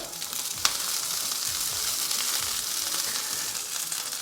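Sliced green chillies sizzle in hot oil with ginger and garlic, a steady dense frying hiss close up, with one brief sharp crackle near the start and faint stirring scrapes underneath.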